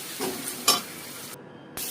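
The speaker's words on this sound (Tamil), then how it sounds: "தக்காளி நல்லா வணங்கினதுக்கப்புறம் நல்லா மெல்ட்டாக வர வரைக்கும் நல்லா வணக்குங்க." Tomatoes sauté in a pan for egg thokku, with brief spoon stirs and scrapes over a faint sizzle, close and quiet, with a short silent gap near the end.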